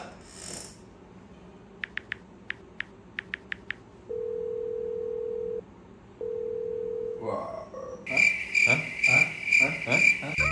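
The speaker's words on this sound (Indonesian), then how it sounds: "Telepon Tony sekarang Watson" A telephone call is placed: crickets chirp faintly in the background, a few short dialing beeps sound, then a steady dial tone plays in two long stretches before louder ringing tones come in at the end.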